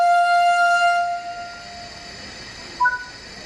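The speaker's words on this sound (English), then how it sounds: "This train is now ready to depart." A BR 766.2 train on the Dresden local line in Train Sim World 3 sounds a sustained two-tone horn or chime that fades after about a second, with a brief second tone near the end over a quiet rumble.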